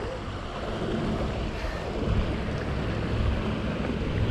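Hard wind gusting by the Paulinskill River in New Jersey, a broad rushing roar that swells midway and stays loud and steady throughout, with no talk.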